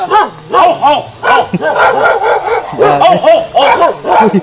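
A dog barks repeatedly in quick, yappy bursts, close by, with some whiny yips mixed among the barks.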